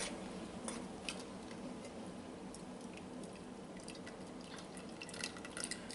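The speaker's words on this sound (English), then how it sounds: "get them into the basket to drain" Fresh homemade ricotta curds draining whey in a basket, a steady faint trickle with scattered small drips and ticks running continuously and quietly throughout.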